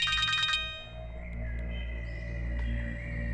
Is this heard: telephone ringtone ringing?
yes